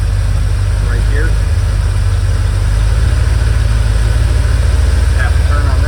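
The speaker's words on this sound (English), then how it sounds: "Notice the idle going up, that's richeting it." A 1978 Ford Bronco V8 idles steadily after a 4-barrel carburetor adjustment, giving a loud, low, continuous rumble up close, with someone talking faintly over it.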